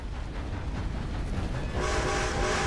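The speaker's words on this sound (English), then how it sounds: "There's a train, there's a train, there's a train" A steam train in the Red Dead Redemption 2 video game rumbles past loudly and steadily, with a bright horn or whistle tone rising in the final second.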